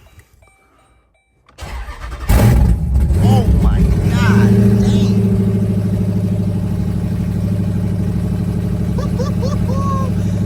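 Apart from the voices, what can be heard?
car engine starting and idling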